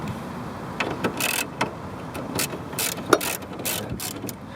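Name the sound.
ratchet with 7mm socket removing Corvette headlight cover bolt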